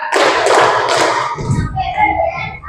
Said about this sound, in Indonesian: Tepuk 1, tepuk 2, tepuk 3.